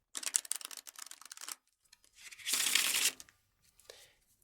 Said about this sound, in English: Riffle Shuffle.